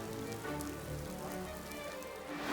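Heavy rain pours down steadily on a walk around Windsor, England, a dense continuous hiss with broadband patter that stays loud throughout and swells slightly at the end, with no voices.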